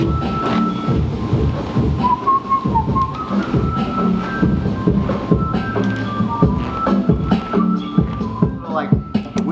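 A whistled melody floats over a relaxed bossa nova groove, with a steady rhythm and scattered percussive accents throughout.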